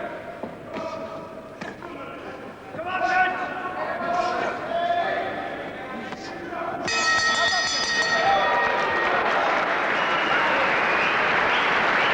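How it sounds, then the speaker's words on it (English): A boxing crowd at Oldham claps and cheers during a 1988 bout, the applause swelling into a dense, sustained roar under a commentator's voice, with scattered thuds and calls earlier. "Very appreciative crowd here at Oldham too."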